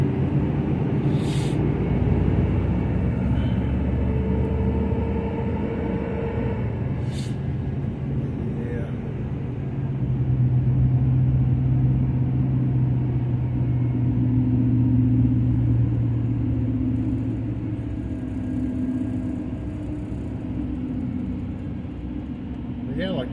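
A GMC Canyon and a Chevrolet Colorado cruise past along a road, producing a low engine rumble that swells and fades, with people talking over it.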